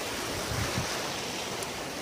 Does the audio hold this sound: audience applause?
no